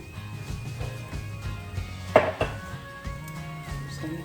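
Cauliflower tipped into a pan while making cauliflower fried rice, giving one brief clattering burst of food and utensil against the pan amid light kitchen clatter, with no talking.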